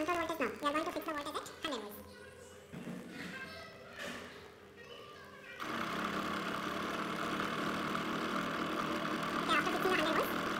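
An AC servo motor in a control-systems lab, run at 100 V control voltage, starts up partway through with a steady, fairly loud mechanical hum that continues to the end, after a stretch of talking and a few thumps.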